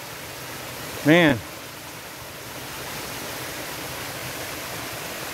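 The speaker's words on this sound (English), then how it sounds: "Look at that nice waterfall." A woodland waterfall hisses as a constant, even rush of falling water, a moderate steady wash filling the background while someone speaks briefly once.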